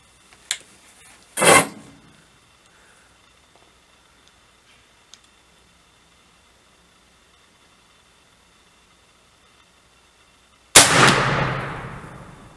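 Two loud rifle shots from a Trapdoor Springfield loaded with 40-grain lead charges, one early and one near the end, each a sharp crack with a brief ringing tail, separated by a long quiet stretch.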